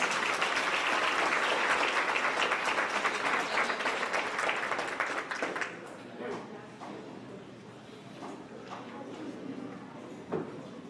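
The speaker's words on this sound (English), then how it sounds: "Let's give them one more round of applause." Audience applause at a grades 4–6 school awards ceremony, a dense, steady clapping for about five seconds that then thins and fades into room murmur and scattered voices.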